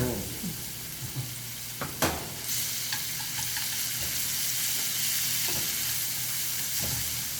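Shrimp being stir-fried in hot oil for banh xeo at a senior men's cooking class, a steady sizzle with a few sharp scrapes and clanks of the utensil against the pan near the start.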